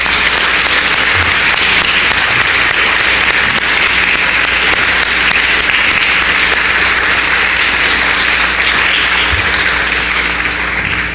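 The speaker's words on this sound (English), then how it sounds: "So let's give our first group of panelists, the attorneys, our sister attorneys," At a national reparations convention in Washington, D.C., a large audience gives a panel of attorneys a long, loud, unbroken round of applause that stays level throughout.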